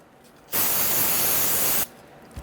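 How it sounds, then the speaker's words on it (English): Solvent sprays in one steady hiss lasting just over a second onto a rusty rear brake backing plate of a 1999-2004 Jeep Grand Cherokee, close and loud, then cuts off sharply into quiet. "spray this down."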